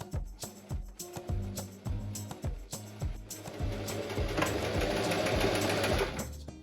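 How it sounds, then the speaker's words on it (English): A sewing machine runs a straight stitch with a 1 cm seam allowance down the side seam of a linen summer skirt, making a loud, close, rapid mechanical chatter in bursts that settles into a steady run. "we sew along the side with a seam allowance of 1 centimeter with a straight stitch"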